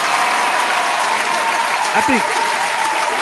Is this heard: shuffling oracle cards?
no